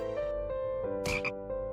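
A cartoon frog croak sound effect rings out alone, with a sustained tonal note broken by a short burst of brighter croaking near the middle.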